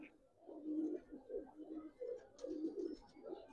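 Pigeons at a pigeon market coo softly and continuously in overlapping low, rolling calls, fairly faint, with light clatter and bustle in the background.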